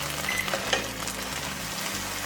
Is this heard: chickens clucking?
no